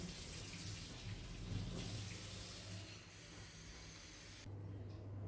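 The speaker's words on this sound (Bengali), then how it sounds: "চালটা ভালো করে একটু ধুয়ে নিয়েছি" Running water from a tap while rice is rinsed in a kitchen, a steady broad hiss and splash that dips briefly near the middle and returns, with no talking.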